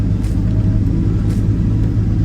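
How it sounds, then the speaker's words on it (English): The engine of a small excavator, used for brush clearing along old fence lines, runs at a steady low rumble, loud and close throughout. "This is the first excavator that I've purchased."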